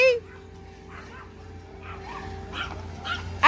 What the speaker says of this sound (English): I gotta look at her little dogs